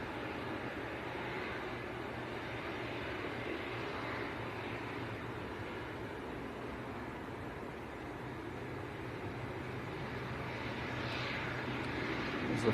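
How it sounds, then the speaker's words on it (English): A Boeing 777-300ER at Manchester Airport, heard as a steady, distant jet engine roar that holds evenly throughout with a slight swell near the end, no voices. "The third 777-300ER we've caught this morning so far."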